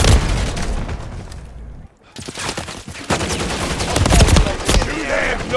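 Rapid gunfire in the video game Wuthering Waves, loud, dense bursts of shots and booming impacts layered almost continuously, with a brief lull near the middle before the barrage resumes.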